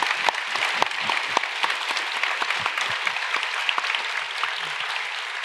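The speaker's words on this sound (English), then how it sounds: "let's warm them up with another round of applause" A crowd applauds steadily, with dense overlapping claps forming a continuous roar for several seconds and no voices.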